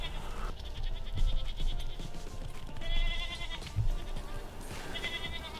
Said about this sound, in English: the dang goats wouldn't leave us alone